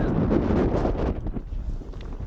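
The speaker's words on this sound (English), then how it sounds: "It's absolutely freezing and the wind is icy." Icy wind blowing across a mountain hiking trail on New Zealand's Milford Track, buffeting the microphone in a loud, steady roar that eases slightly after the first second.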